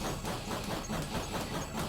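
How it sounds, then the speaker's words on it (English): A steam-train-like weapon sound effect from a PC Engine game, Ginga Fukei Densetsu Sapphire by Hudson Soft, forms a steady rhythmic chuffing hiss with regular pulses about four times a second, at moderate level and heard alone. "her weapon sound effects sounds like a train, like a steam train"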